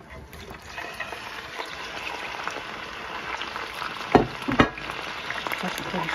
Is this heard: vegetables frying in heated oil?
yes